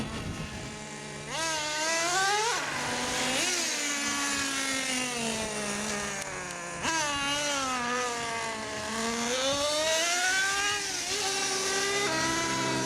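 Traxxas T-Maxx nitro RC truck engine revving at full throttle, a high buzzing whine that rises and falls in pitch repeatedly and stays loud and continuous throughout, with no talking.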